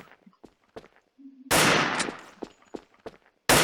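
Sniper rifle shots ring out in the online shooter Wolfteam: two loud, sharp blasts with decaying tails, separated by quiet stretches of footsteps and small game clicks.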